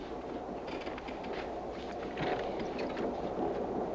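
Continuous low rumbling of a train rolling along, with rattling and a steady roar that swells slightly partway through.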